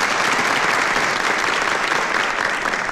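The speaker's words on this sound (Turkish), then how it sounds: "Evet, Melih'i alkışlıyoruz" Studio audience applause on a Turkish comedy show, loud, dense and continuous from start to finish.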